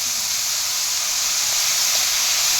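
Soy sauce hits vegetables in a hot pan for spring rolls, giving a steady, loud, close hiss of sizzling that holds evenly throughout with no voices.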